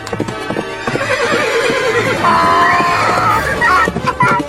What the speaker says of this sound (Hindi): खुद घोड़े पर चल रहा है और हम गधे पर।